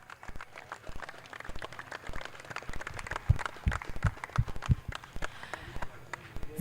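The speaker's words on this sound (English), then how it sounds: "Please clap for them." Scattered outdoor applause from a small audience at a T20 cricket tournament final, for the champions receiving the trophy; irregular, fairly close claps build in the middle, sparse and uneven rather than a full ovation.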